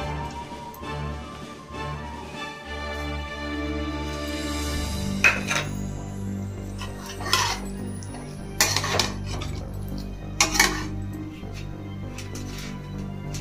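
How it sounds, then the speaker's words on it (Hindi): A spoon mixes a batter of poha, semolina and chopped coriander for vadas in a bowl, bright clinks and scrapes against the dish recurring every second or two after a quieter start. "सब डाल के एक साथ अच्छी तरह से मिला लेंगे"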